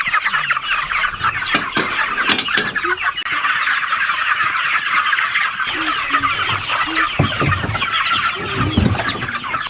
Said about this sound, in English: they're shooing the chickens out, Brian.